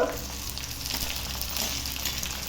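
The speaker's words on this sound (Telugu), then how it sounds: "చూడండి, పచ్చిమిర్చి చీలికలు వేస్తున్నాను. అలాగే టమోటా ముక్కలు" Green chilli slits and tomato pieces frying in oil for chicken fry make a soft, continuous sizzle with faint clinks of stirring.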